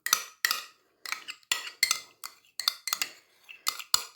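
A spoon clinks and scrapes rhythmically against a bowl, mixing sour cream and mayonnaise, short repeated strokes with brief pauses between.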